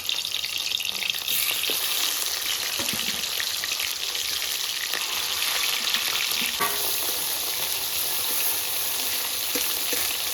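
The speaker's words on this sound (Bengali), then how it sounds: "হাতে তেল ছিটছে। এগুলো ভেজে নিচ্ছি আমি।" Oil splatters and crackles loudly in a steady, dense hiss as food fries in a pan for fish curry with mustard and poppy seed, the sizzle continuous and close with occasional stirring knocks.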